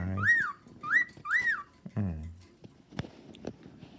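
A pet bird gives three rising-and-falling whistles in quick succession, close and clear, followed by a few shorter chirps and clicks, with no talk over it.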